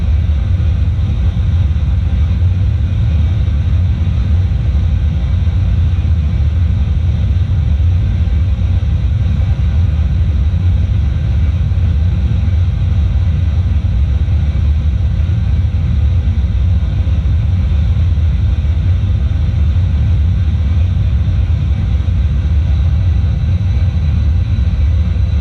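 Steady loud aircraft engine drone in the X-Plane flight simulator as the plane climbs near Oakland toward San Francisco, a continuous low rumble holding constant throughout with no talking.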